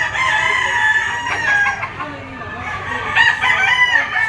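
Gilmore Hatch gamefowl rooster crowing close by, two loud drawn-out crows with clucking and other fowl noise around them, and faint voices in the background.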